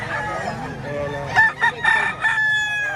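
A rooster crows close by at a poultry sale in Lipa, Batangas, one strained, broken crow in bursts over a noisy outdoor background.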